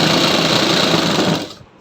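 A sewing machine runs steadily at close range, stitching a half-inch seam on a salwar, then winds down and stops near the end.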